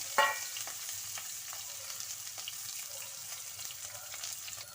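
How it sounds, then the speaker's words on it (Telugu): Onions and green chillies drop into hot oil with cumin in a kadai, giving a sharp burst of sizzling that settles into a steady close frying hiss with light stirring clicks. "నెక్స్ట్ ఉల్లిపాయ పచ్చిమిరపకాయలు కూడా వేసేసుకుంటున్నాను"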